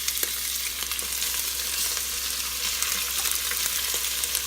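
Chicken pieces sizzle and fry in an Instant Pot while being stirred, a steady close crackle with faint scraping from the spoon, no voices over it.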